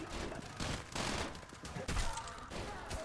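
Sustained gunfire from the first-person shooter Trepang2, dense overlapping bursts and rapid shots filling the clip, loud and continuous with game action noise around them.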